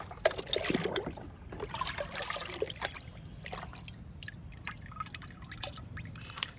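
Liquid fertilizer poured onto pomegranate plants, a steady close trickle and splash of liquid with a few louder drips early on, running continuously without talk.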